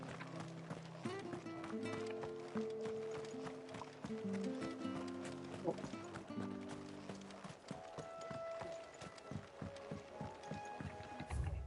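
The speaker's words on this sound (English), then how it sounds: "We go riding on the horse." Galloping chocobo mount in Final Fantasy XVI, a steady rapid clip-clop of footfalls running under game music, with a brief bird-like call near the end.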